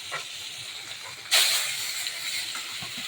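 Fish pieces hit hot cooking oil with a sudden, loud sizzling burst, following a quieter hiss, then settling into a steady close-up frying hiss.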